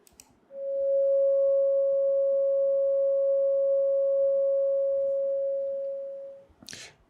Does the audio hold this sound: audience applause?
no